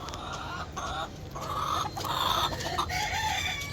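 Several Silkie chickens cluck and squawk close by, with overlapping calls and a busy farmyard hum underneath.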